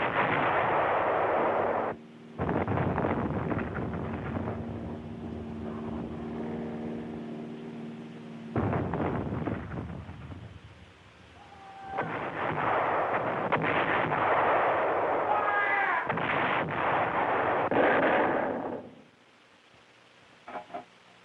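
World War II artillery barrage during the Normandy battle near Cherbourg: heavy, sustained booming gunfire rolling almost continuously for about nineteen seconds, with brief gaps and dense overlapping blasts, then fading to quiet.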